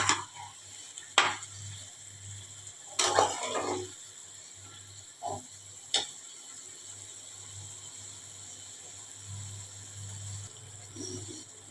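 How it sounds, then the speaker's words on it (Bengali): A spatula stirs chicken in a pan for Bengali kosha, giving a few quiet, scattered scrapes and clacks over a steady low hum, with long gaps between strokes. "ভালোভাবে চিকেনটাকে একটু কষতে হবে, 4-5টা ভালোভাবে খুন্তি দিয়ে একটু নেড়ে দিতে হবে"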